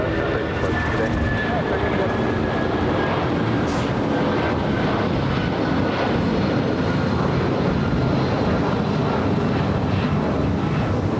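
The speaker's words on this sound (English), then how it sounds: "Let's catch this takeoff. The United 757 at 200." A United Airlines Boeing 757-200 taking off at LAX gives a steady, rushing jet roar mixed with wind buffeting on the microphone, continuous and fairly loud throughout.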